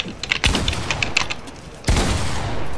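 Explosive bow shots in a multiplayer shooter game: two sharp, loud impacts with booming blasts about a second and a half apart, over a busy backdrop of crackling game effects, close with no talk.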